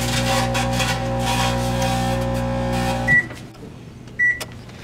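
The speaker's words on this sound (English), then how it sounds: "the fire is immediately excited by the microwave and fireballs shoot out from the flame" A microwave oven runs with a flame burning inside, giving a steady loud hum with a buzzing electrical drone. The hum cuts off near the end, followed by two short beeps.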